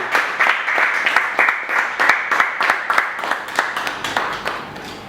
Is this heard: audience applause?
yes